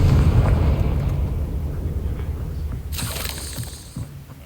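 A Confringo fire spell goes off in Hogwarts Legacy as a single sharp, bright burst over a steady low rumble of game sound, then fades back to the background.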